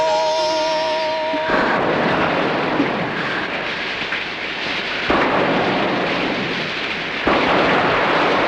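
Heavy rain pours in a dramatic film scene, a dense, loud roar with rumbling thunder-like swells and abrupt shifts in intensity, opening briefly on fading tonal music.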